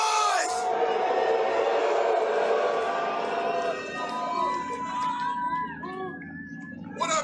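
Large outdoor crowd at a Juggalo rally at the Lincoln Memorial in Washington, D.C., roaring, cheering and whooping together in a loud, sustained wash of voices, with a few sharper shouts rising near the end.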